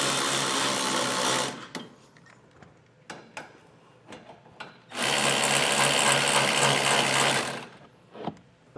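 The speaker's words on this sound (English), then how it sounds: "I'm going to take my 15/16 thin-walled socket and just start snugging this down" Repeated ratcheting of a 15/16 thin-walled socket snugging down bolts on a Curt EZr double lock underbed gooseneck hitch, with a long steady burst, several short clicks, then another long burst.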